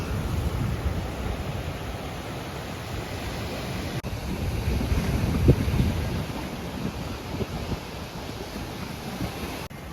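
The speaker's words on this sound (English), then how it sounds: "We made it to the beach." Wind buffeting the microphone over the wash of ocean waves on a Pensacola beach, a continuous broad roar with a slight swell near the middle, no voices.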